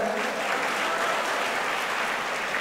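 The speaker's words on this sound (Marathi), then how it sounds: "कार्यक्रमाचे कोषाध्यक्ष विजय बांगर साहेब यांच्यासाठी एकदा जोरदार टाळ्या होत्या" An audience bursts into strong, sustained clapping at a birthday felicitation ceremony, dense and even from start to finish with no break.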